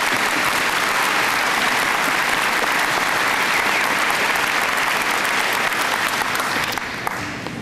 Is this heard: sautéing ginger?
no